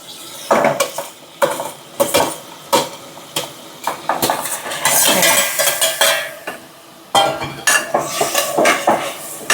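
Spices being stirred in a cooking pot with a metal utensil, giving repeated loud scraping and clinking strokes against the pot, with brief faint sizzling between them.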